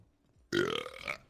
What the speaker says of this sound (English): I think my burp hit it.